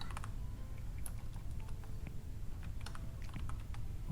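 Fingers type on a computer keyboard, a run of light, quick, irregular key clicks over a low steady background hum, close by.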